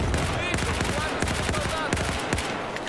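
Battlefield 4 combat fire rattles nearby in fast, continuous automatic bursts, dense and loud throughout.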